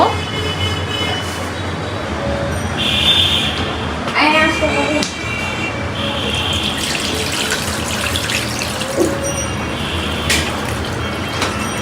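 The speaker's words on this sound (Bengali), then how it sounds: "এখন এখানে আমি পানি দিয়ে দিব" Water is poured into a cooking pan while a meal is being made, giving a steady running, splashing pour. Voices and household noise carry on throughout.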